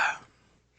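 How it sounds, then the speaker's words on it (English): A single short cough or throat clear from a hoarse man, one sharp close burst that dies away quickly into quiet. "I'm still going to be coughing here"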